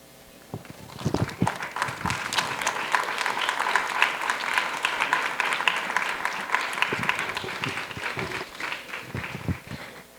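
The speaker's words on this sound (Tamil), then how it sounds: "நாம் அனைவரும் எழுந்து நின்று ஒரு நிமிடம் கைத்தட்டி நமது மரியாதையும் நன்றியும் தெரிவிப்போமா" A standing audience gives a sustained one-minute ovation at a Tamil school's tenth anniversary celebration. The clapping is steady and dense from start to finish, with a few louder claps close by.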